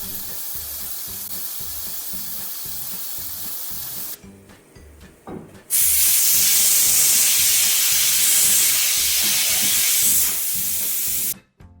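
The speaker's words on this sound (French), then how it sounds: "le régulateur de pression commence à s'élever au-dessus de sa buse, permettant ainsi à l'excès de vapeur de s'échapper" A pressure cooker's regulator lifting off its vent as excess steam escapes, giving a steady loud hiss over a repeating rattling pulse. The hiss drops out briefly, then returns even stronger and holds steadily before cutting off.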